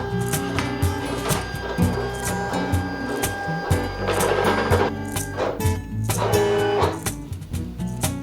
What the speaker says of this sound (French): l'imprimante de découpe qui fait son office comme quasiment pour chaque déco